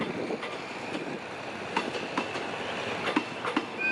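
A Hitachi locomotive hauls a special sleeper train past at a station in Kaeng Khoi, Thailand, its wheels clattering in a steady rhythmic clack over the rails under a continuous rumble, fairly close and loud.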